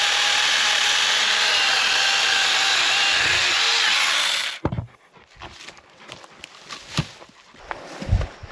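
A loud, continuous buzzing of a small saw cuts through wood for about four seconds, then stops, followed by scattered taps and handling noises.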